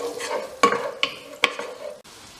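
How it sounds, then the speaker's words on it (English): Crushed garlic being stirred into melted butter in a pot for a mussels dish, with a steady low sizzle broken by a few sharp scraping and clinking strokes of the utensil, close and fairly loud, no voices. "add our 2 crushed garlic cloves to the pot. And then we're just going to stir this through for about another 30 seconds."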